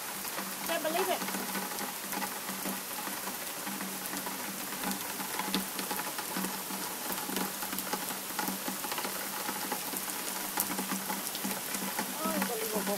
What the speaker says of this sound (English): this is the best kind of rain